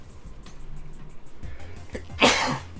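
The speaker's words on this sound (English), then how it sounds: "Sorry for sneezing directly in your ears." A single sharp sneeze bursts out near the microphone, loud and close, after a few seconds of quiet room noise with faint shuffling.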